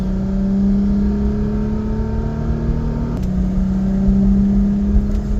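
A Toyota Tacoma truck engine labors at high altitude with a loud, steady droning hum that rises slowly in pitch, drops briefly as a gear changes, then climbs again under strain.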